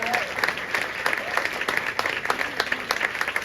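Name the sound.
audience applause for the Džässkaar team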